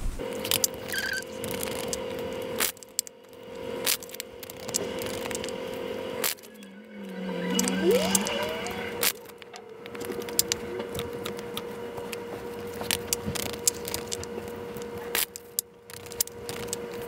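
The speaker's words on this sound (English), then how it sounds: "I'm gonna shuffle now." A tarot deck is shuffled by hand at close range, producing irregular papery snaps, flutters and light clicks with short pauses between bursts and no speech.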